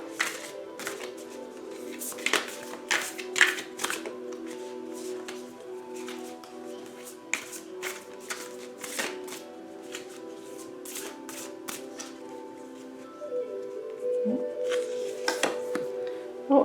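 Reiki Living Healing cards are shuffled by hand in repeated crisp riffles and slides, close and fairly quiet, with soft clicks and a faint steady hum underneath and no speech.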